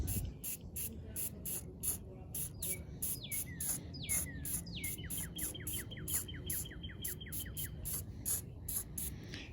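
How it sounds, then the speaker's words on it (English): Aerosol spray can spattering red oxide primer from a distance, steady hissing bursts in short repeated pulses, with bird chirps sounding in the background. "I'm gonna hit it back with some red oxide primer, but just real far away, And all I'm doing is some splatters."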